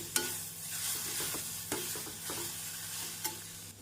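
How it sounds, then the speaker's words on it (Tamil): Grated coconut stirred through carrot rice in a pan, with a soft, steady sizzle under it and a few sharp scrapes of the spoon against the pan, close and fairly quiet. "தேங்காய் பூ சேர்த்து நாம் கேரட்டுடன் நன்றாக மிக்ஸ் செய்து"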